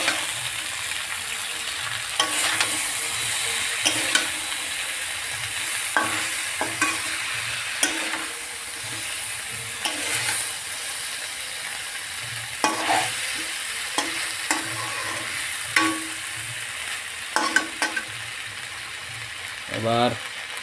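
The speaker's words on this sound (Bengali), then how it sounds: "দিয়ে আর ভালো করে সরিষার সাথে মিশিয়ে নিব।" Drumsticks coated in mustard paste sizzle and fry steadily in a pan while a utensil scrapes and stirs through them in repeated strokes, the cooking close and continuous with no talking.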